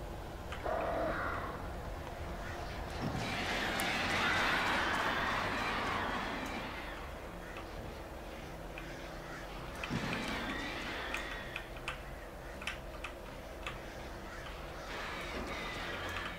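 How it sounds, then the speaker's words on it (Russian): Birds caw in the video game Alan Wake, scattered harsh calls heard over a dense ambient wash and muffled game sounds that run throughout. "Эти птицы странные."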